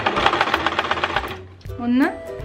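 A sewing machine stitches white thread through fabric for a homemade Holy Communion gown, a quick run of rapid, evenly spaced needle strokes lasting over a second before stopping, followed by a short voiced sound.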